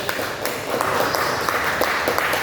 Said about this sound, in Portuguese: Você pode aplaudir o Senhor, por favor?